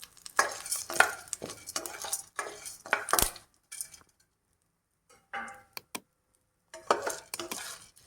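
Crushed garlic, dried red chilies and roasted gram fry briefly in a pan for a spiced puffed-rice snack, with bursts of sizzling and quick metal stirring clatter broken by short silent gaps.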